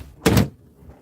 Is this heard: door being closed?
yes